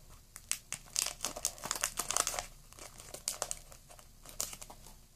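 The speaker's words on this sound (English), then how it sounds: "Let's cut that open." Crinkly plastic wrapper of a trading card pack being cut and torn open, a string of sharp close crackles and rustles in irregular bursts, with no talking.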